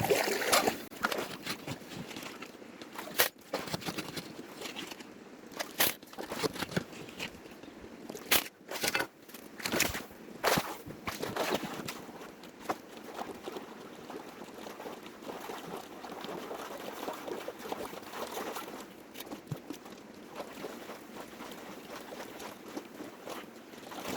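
Gold panning in water with a wooden batea pan, a busy run of sloshing, scraping and gravel-rattling strokes in uneven bursts, fairly close and continuous, with no talking.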